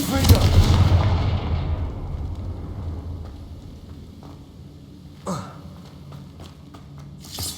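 Confringo fire spell explosions in Hogwarts Legacy, a loud booming blast at the start that fades into a rumbling tail, followed by a sharper crack near the end, with no talking.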